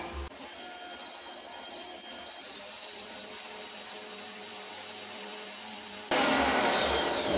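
A metal lathe turns down a steel spindle for a homemade milling machine, a steady whirring machining drone with faint cutting noise that runs without a break and grows noticeably louder near the end.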